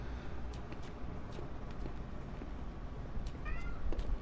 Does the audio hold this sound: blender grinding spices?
no